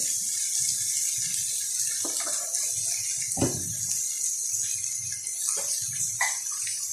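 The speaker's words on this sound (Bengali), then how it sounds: "মিক্সারের মধ্যে যে মশলাটা লেগেছিল ওটা ধুয়ে আমি একটু জল দিয়ে দিচ্ছি" Water pours to rinse leftover spice paste out of a mixer jar into a cooking pot, giving a steady running splash with a few louder gushes and knocks along the way.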